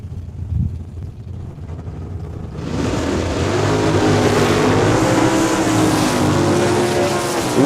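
Two Mopar drag cars launch side by side at Saskatchewan International Raceway in Saskatoon, a sudden loud, sustained engine roar after a quieter idle, with wind buffeting on the microphone.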